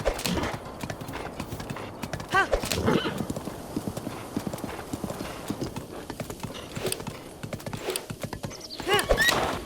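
Horse hooves clip-clopping in the video game Zelda: Breath of the Wild, a steady rhythmic trot with occasional whinnies, moderately loud throughout.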